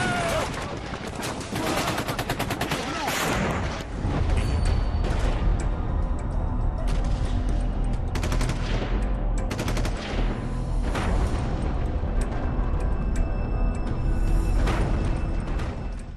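Gunfire during Taliban attacks on residential areas, dense bursts of automatic rounds and scattered shots rattling loudly and continuously, with distant booms in the background.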